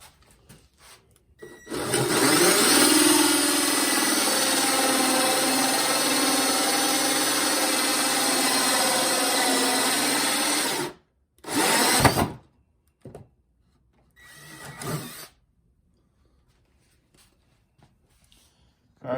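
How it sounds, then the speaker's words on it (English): A power drill fitted with a hole saw bores through a wood board in a loud, continuous grind lasting about nine seconds, followed by two short bursts as it is restarted and stopped. "I will essentially be drilling this out."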